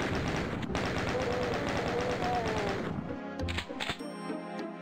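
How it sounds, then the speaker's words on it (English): A chain gun in Doom II fires a rapid, unbroken stream of loud rattling shots for about three seconds, then cuts off, leaving a few scattered thuds and a low hum. "Oh, the chain gun."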